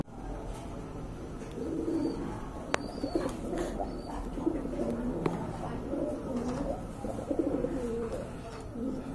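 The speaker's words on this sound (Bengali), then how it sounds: "খুবই চমৎকার এক জোড়া কবুতর" A pair of Giribaz pigeons coo at a pigeon seller's place, soft repeated throaty coos rising and falling near the listener, mixed with light background chatter and occasional clicks.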